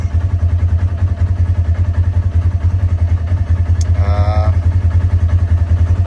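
A Polaris RZR XP1000 engine idles with a steady, throbbing low pulse while being shifted into four-wheel drive, with a brief faint higher-pitched tone partway through and a voice speaking over it.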